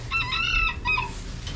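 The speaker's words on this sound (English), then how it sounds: "You hear that little high-pitched crow?" A small rooster on a dairy farm gives a short, high-pitched crow, close and clear, with one main call followed by a briefer second burst over faint barnyard background.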